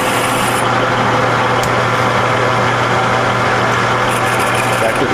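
Metal lathe cutting an internal thread with a Banggood SNL0016Q16 threading bar and 16IR 3/8 insert, a steady motor hum with a low tonal drone and faint cutting hiss, continuous and moderately loud.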